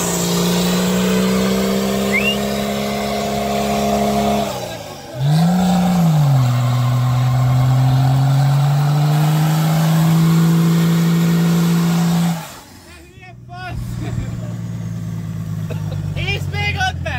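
A BMW 325tds engine revs loud and close, holding high sustained revs that dip and climb again before cutting off abruptly near the end, with voices at times.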